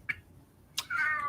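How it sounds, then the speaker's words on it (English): A pet house cat meows indoors: a faint short chirp, a pause, then a louder, drawn-out meow near the end, with a soft click in between. "Sorry, that's my cat."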